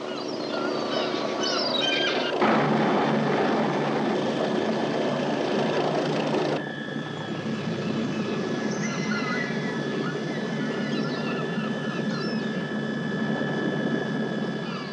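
A helicopter flies, a steady broadband rotor and engine roar that runs loud throughout with a shift in tone partway, no talk over it.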